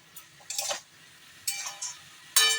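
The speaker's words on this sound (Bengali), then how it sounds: "একটু মশলাটা ভাজবো" Spice masala for lemon chicken is fried and stirred in a pan: three short bursts of a utensil scraping against the pan, separated by quiet gaps, with soft sizzling underneath.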